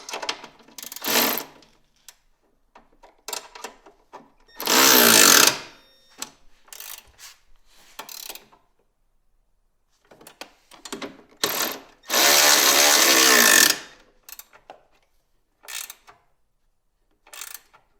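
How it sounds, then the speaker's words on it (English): A ratchet tightening 13 mm bolts on the bottom of a full wrap-around bumper on a 2023 Ski-Doo Expedition SE 900 ACE snowmobile, close clicking runs separated by pauses, with two longer loud stretches of rapid ratcheting. "Go ahead and tighten the 13 mil bolts on the bottom."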